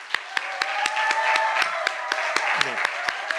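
A church congregation gives sustained applause for the worship team, a steady dense wash of clapping with sharp individual claps standing out near, while a voice speaks briefly over it.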